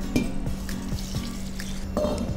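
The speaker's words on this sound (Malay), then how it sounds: "Kemudian kita masukkan air mengikut sukatan beras yang digunakan." Water going into a cooking pot holding four cups of rice, heard as faint, scattered drips and splashes over a steady low hum.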